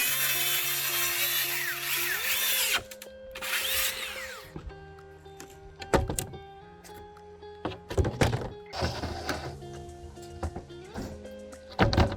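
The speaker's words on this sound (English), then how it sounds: "Now I install the roof sheathing plywood." Carpentry work installing plywood roof sheathing on a rotted roof being rebuilt: loud, close wooden thunks and knocks come in irregular bursts over a steady tonal background hum, with several sharp impacts near the end.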